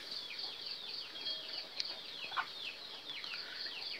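Jungle fowl give rapid, overlapping high clucks and chirps in a steady busy chorus, fairly close, with a couple of sharper calls standing out and no talking.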